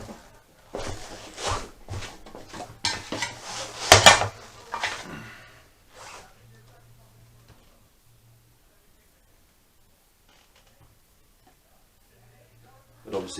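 Greased split link being fitted onto the chain of a Honda CBR400 track bike: a cluster of small metallic clicks and clinks near the mic, followed by long near-silence and a faint knock at the end.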